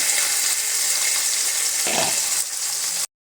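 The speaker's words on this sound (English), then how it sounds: "you want to flip them and sear these for another 3 minutes" Steak pieces searing in a hot pan for steak pizzaiola, a loud, constant hiss of sizzling fat that runs unbroken and then cuts off abruptly.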